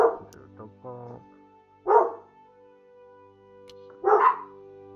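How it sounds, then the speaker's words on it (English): Two dogs bark at their owner in a dog park, three sharp, close barks spaced a couple of seconds apart, with soft whining and quiet tones between them. "they're now barking at their mum"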